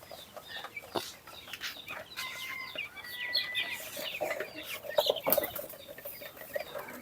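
Chickens cluck and squawk in a busy flock on a poultry farm, with scattered wing flaps and bird calls nearby; no talking.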